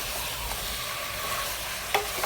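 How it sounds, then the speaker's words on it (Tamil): Small sambar onions sizzle steadily in a hot pan for mutton gravy, a dense continuous frying hiss with a faint stir and a light clink of the utensil near the end. "இதோட எடுத்து கூட இஞ்சி பூண்டு பேஸ்ட்டையும் சேர்த்து வதக்கிடலாம்"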